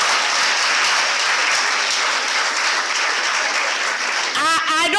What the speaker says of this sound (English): can you clap for yourselves?